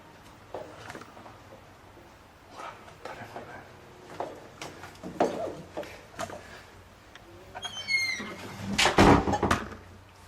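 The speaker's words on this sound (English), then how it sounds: "待って、またドア、今ドアの音しました。" A door in a Japanese home closes on its own, heard as scattered knocks and clunks in a quiet room. A sharper burst near the end mixes with faint bird-like chirps, and there is a little quiet talk.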